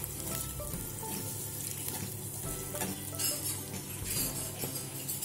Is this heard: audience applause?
no